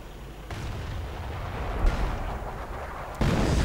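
Artillery shells land in a WWII strategy video game, rumbling booms and blasts rolling continuously, with sharper impacts near the middle and a louder burst at the end.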